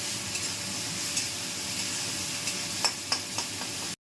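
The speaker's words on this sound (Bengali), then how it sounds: "পেঁয়াজটা একটু লাল লাল করে ভাজা ভাজা হয়ে গেলে" Steady sizzling of onions frying in oil in a pan, with a few soft clicks of stirring near the end, then a brief cut to silence.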